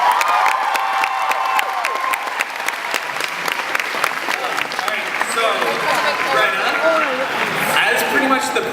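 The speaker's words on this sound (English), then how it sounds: "let's have a round of applause for this incredible group" Audience applause from a crowd at a San Diego Comic-Con 2014 fan panel, steady and sustained across the whole stretch, with a few cheers and voices mixed into the clapping.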